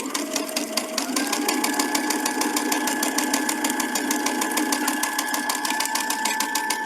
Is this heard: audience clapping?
no